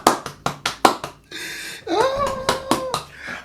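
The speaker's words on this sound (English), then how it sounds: "I'm gonna clap for her." Six or so sharp, evenly spaced hand claps ring out close by over the first second, then give way to a hum and tonal vocal sounds.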